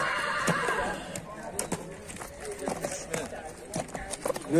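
At a horse market in Sokuluk, a horse whinnies and hooves clop on the ground amid steady nearby talk and market bustle.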